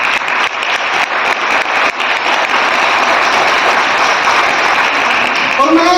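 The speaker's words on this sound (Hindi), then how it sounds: "मैं चाहूंगा उनके लिए एक जोरदार ताली बजाएं।" An audience at a network-business anniversary celebration breaks into loud, sustained applause, a dense wash of clapping that carries on throughout while a voice speaks over it.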